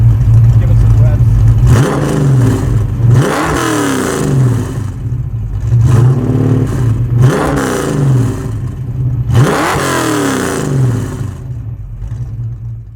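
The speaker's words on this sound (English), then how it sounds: "Give it some revs." A 1966 Ford Mustang pro-touring build with self-tuning EFI revs up in several repeated bursts, the engine rising and falling over a steady idle, close and loud, with voices speaking quietly underneath.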